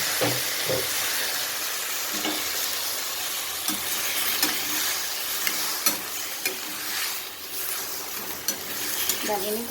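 Chopped tomatoes stirred into hot fragrant aromatics in a pot for fish-tail soup, a steady loud sizzle and hiss with occasional scraping stirs, continuous throughout.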